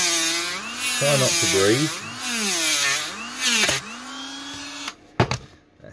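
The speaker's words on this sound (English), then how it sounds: "So first thing we need to do is grind, medium to high setting" A handheld grinder on a medium to high setting works orthotic insole material for a prefabricated insert, a loud whirring tone that rises and falls in pitch as the material is pressed, then stops; a voice speaks briefly.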